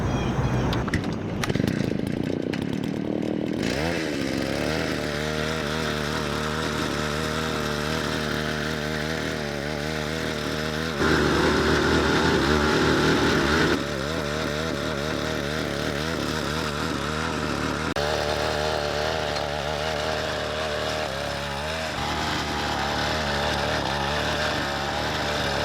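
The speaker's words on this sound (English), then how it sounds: "We're going to have to hit it again with that tiller." Garden tiller running continuously while tilling tough-rooted lawn soil during a lawn renovation, a loud steady engine drone with a brief rise in load partway through, close by with no talk.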